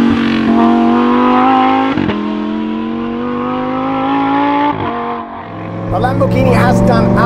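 A Lamborghini Huracán STO with a Novitec exhaust accelerates loudly through several upshifts, its rising engine note cutting off sharply at each change, then pops and crackles as the throttle lifts near the end.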